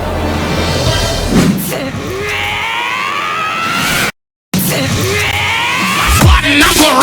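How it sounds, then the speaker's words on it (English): A rage scream sound effect added to a music track, loud, strained yelling that rises and bends in pitch, cut by a brief silent gap before another scream. "add some random rage scream"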